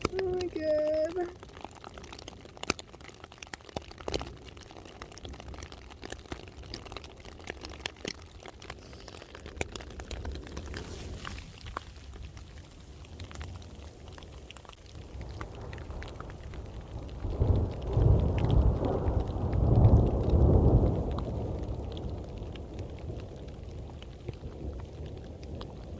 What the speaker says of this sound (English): It's raining, hailing, and thundering again.